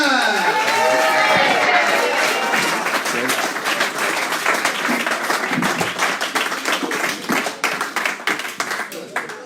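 Audience applause and scattered cheering at a comedy club gig as a comedian is welcomed onto the stage, loud and sustained for several seconds, then thinning into lighter, uneven clapping.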